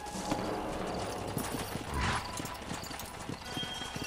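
Horse hooves clip-clop steadily at close range over a busy background, with a brief whinny partway through, in the video game Red Dead Redemption on PS3.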